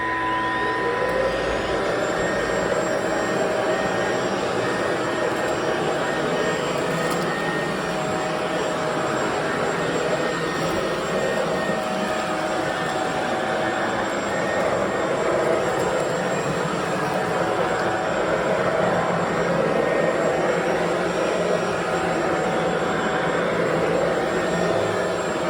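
A Bissell Pet Slim cordless stick vacuum runs with a steady, loud, close motor whine and airflow roar that holds unbroken throughout, with no talk over it.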